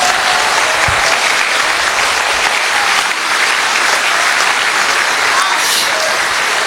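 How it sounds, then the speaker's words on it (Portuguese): A church congregation at a Portuguese-language service claps loudly and steadily throughout, with scattered voices and cheers mixed into the dense applause. "Vocês podem aplaudir a Jesus?"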